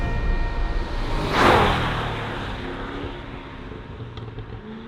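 A Chevrolet Corvette, a 2025 10Best winner, accelerates hard past with fast upshifts, its engine note swelling to a loud whooshing peak near mid-clip and then fading away.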